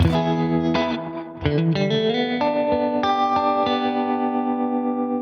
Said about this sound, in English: this tremolo sound is from the amplifier